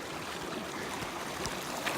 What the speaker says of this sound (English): Here's the biggest creek that flows into Devil's Lake.